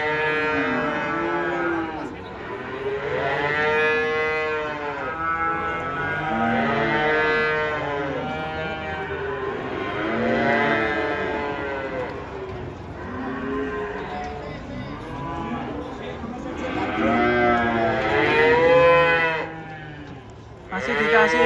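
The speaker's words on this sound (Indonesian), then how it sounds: "Sapi ngamuk." Raging cattle unloaded from a truck bellow over and over in long, loud, strained moos, one after another for the whole stretch, with people talking in the background.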